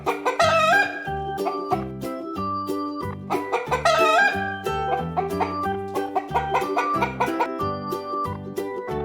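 A hen clucks and a rooster crows on a farm, the calls set against steady background music that carries on throughout.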